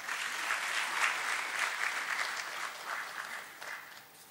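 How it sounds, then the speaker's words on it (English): Steady audience applause at an inaugural session of a Rotary entrepreneurship seminar, a dense even wash of many hands clapping that holds throughout and thins slightly toward the end, with no voices over it. "I would like to welcome you with a big applause"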